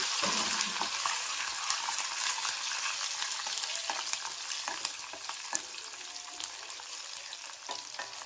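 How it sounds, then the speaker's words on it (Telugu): Dried red chillies, curry leaves and garlic cloves fry in hot oil as a tempering for mango chutney, a dense, bright, close crackle with scattered sharper pops over a steady hiss, without talking. "ఎండుమిరపకాయలు, కరివేపాకు, వెల్లుల్లి రెబ్బలు వేసుకొని బాగా దాన్ని ఫ్రై చేసుకోవాలి"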